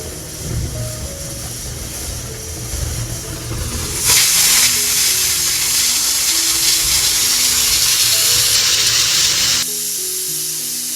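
A pot being washed under running tap water: a steady close splashing rush that surges louder midway as the stream hits the metal, then drops back, with no talk.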